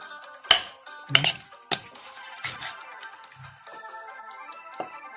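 Mango and shrimp papaya salad being spooned out: a few sharp clinks of a spoon against a dish or bowl, then softer scraping and tapping in a quiet room.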